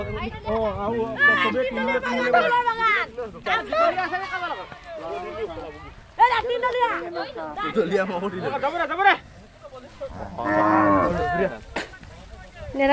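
Cattle in Assam moo and bellow repeatedly at close range. Long drawn calls overlap one another with short pauses between bursts, loud throughout.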